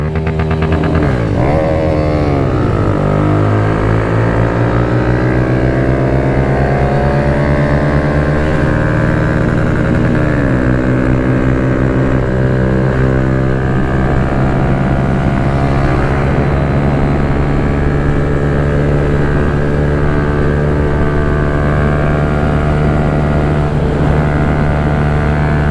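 Kawasaki Z125 Pro motorcycle engine droning steadily in third gear on back roads, one quick rev dip early, then a constant high buzzing whine held close throughout.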